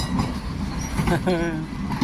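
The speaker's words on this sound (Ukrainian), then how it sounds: "Вже поїхали. Трамвайчики на Льва Толстого." Tram number 23 departing on a street in Kharkiv's Saltivka district on a summer morning, a rumbling rail roll with a brief squealing tone, heard under a voice.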